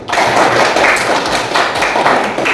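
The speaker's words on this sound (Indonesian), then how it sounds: "Tepuk tangan dulu" Children clap their hands in a classroom, a dense run of rhythmic claps repeating in bursts at close range, fairly loud and without talk.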